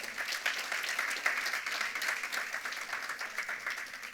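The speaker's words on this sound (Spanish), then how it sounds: "Aplauda al Señor, aplauda." A church congregation applauding during a sermon, an even, fairly distant wash of clapping that holds steady from start to finish.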